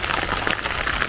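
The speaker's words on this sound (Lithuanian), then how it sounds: "pradėjo lyti stipriai" Heavy rain falls in a blueberry forest, a close, continuous patter of drops on leaves and a raincoat with a fizzing, even texture throughout.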